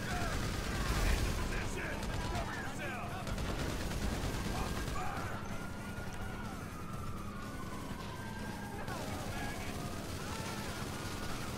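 Gunfire in the GTA V video game sounds as a dense, fairly quiet spread of shots and crackling fire mixed with vehicle and mechanical game noise.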